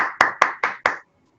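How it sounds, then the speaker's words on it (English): Five sharp hand claps in quick even succession, close and crisp, then silence. "We start our program with a big clap for all of you."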